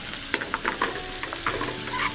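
Mushrooms and bok choy sauté in a hot pan with a steady close sizzle, broken by quick stirring scrapes and small spattering bursts, with no voices.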